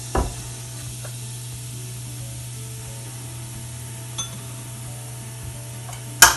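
Fennel seeds in about two tablespoons of oil on a slow flame, a steady faint sizzle over a low hum, with a few sharp clinks of a utensil against the pan near the start and end.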